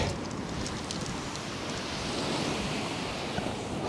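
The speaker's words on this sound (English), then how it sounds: "there's some big rollers coming through at the moment" Big waves rolling and breaking onto the shingle of Chesil Beach, a loud steady roar of surf with no voices.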